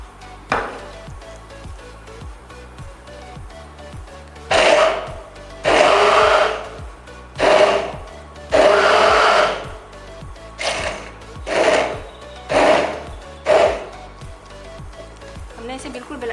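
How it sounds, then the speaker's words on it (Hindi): Several short pulses of a kitchen blender lightly grinding almonds and dried nuts for kulfi, each burst a loud whirring rattle lasting about a second, separated by quiet gaps, with faint talk in between. "हल्का हल्का ब्लेंड कर लेंगे।"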